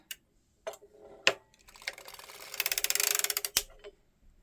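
A hand-cranked circular sock knitting machine gives isolated loud clacks, then a fast run of close mechanical ticks and ratcheting clicks from the needles, ending in one sharp knock.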